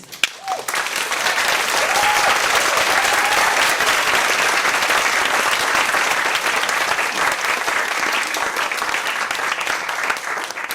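Loud, sustained audience applause fills a lecture hall after a talk on capitalism and neurodiversity, a dense, even clatter of many hands running the whole stretch without pause.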